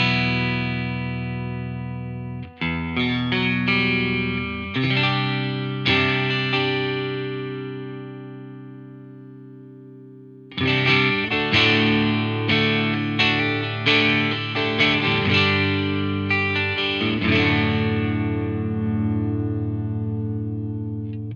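An electric guitar plays through an ENGL Ironball SE amp set for slightly driven breakup tones. Loud, ringing chords are struck and left to sustain, with a short pause and then a longer, busier second phrase.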